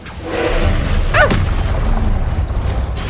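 Fire and blasting spells cast in Hogwarts Legacy produce a loud, near boom with a whooshing sweep partway through, then a rumbling low tail under continuous game noise.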